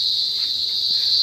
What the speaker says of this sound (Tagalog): Naririnig nyo pa yung kuliglig.